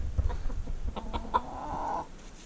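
A rooster gives a drawn-out crowing call, preceded by a few short clucks, close by and fairly loud with no talking.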